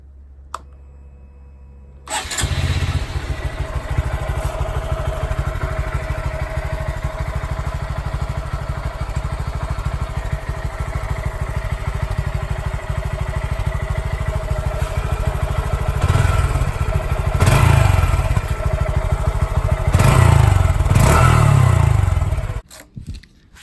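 A used motorcycle with a stock exhaust starts after a brief silence, then runs loud and steady with a few swelling revs before shutting off abruptly.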